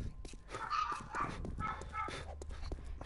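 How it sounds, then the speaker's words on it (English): Dogs in the zombie survival game 7 Days to Die bark and yip repeatedly in an uneven, overlapping string of sharp yelps, moderately loud amid game noise. "Shut your dumb dogs up."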